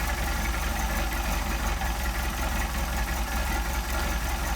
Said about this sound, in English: You see how the idle has changed as it warms up.